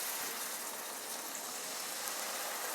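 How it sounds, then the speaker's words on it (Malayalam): Vinegar poured into fish pickle masala for Kerala-style tuna pickle, giving a steady, close hiss of liquid that runs without a break for about three seconds. "ഇതിലേക്ക് കുറച്ച് വിനാഗിരി ഒഴിക്കാം"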